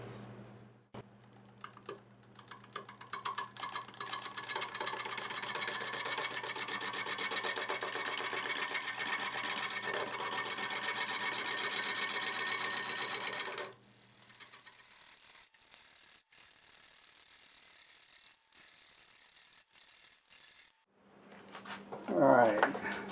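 A wood lathe running at about 500 RPM while a wooden piece is shaped around the tenon and base, giving a steady mechanical whir with scraping tool contact that drops away partway through, then a brief burst near the end.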